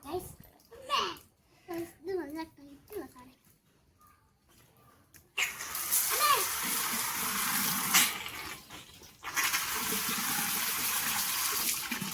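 A child and an adult talk, then a rushing stream of water gushes into a turtle's tank and keeps pouring steadily, loud and close, with speech continuing over it.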